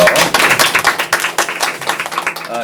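An audience claps together at a talk show, a loud run of quick, uneven handclaps from start to finish.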